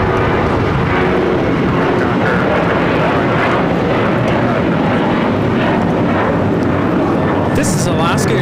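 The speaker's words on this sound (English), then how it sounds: "This is Alaska Airlines Flight 6 taking off to Washington Reagan National on a 737-800" An Alaska Airlines Boeing 737-800 takes off from LAX, a loud, steady broadband jet roar filling the whole stretch with no break, and voices talk over it.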